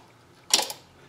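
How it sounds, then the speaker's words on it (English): A single sharp mechanical click from a Sturmey Archer S5 five-speed bicycle hub being assembled, short and crisp with a brief rattling tail, alone in a quiet room. "There's a click."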